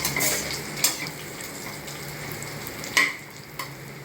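Bay leaf, poppy seeds, kasuri methi, cloves and cinnamon fry in hot oil for coconut biryani, a steady sizzle broken by a few sharp spoon-against-pan scrapes.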